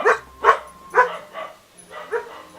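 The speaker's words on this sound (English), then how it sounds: "Doggy's barking!" A dog Pokémon in Pokémon Scarlet and Violet barks repeatedly, five or six yappy, close barks in a quick uneven rhythm with no talking over them.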